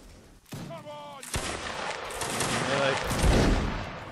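Musket volley fire during a Napoleonic Wars line battle, loud crackling shots building and swelling across the clip, mixed with voices talking over the gunfire.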